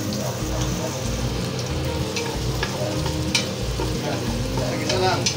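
Ginger frying in hot cooking oil as a Filipino papaitan is started, giving a steady close sizzle broken by light scraping and stirring, no voices.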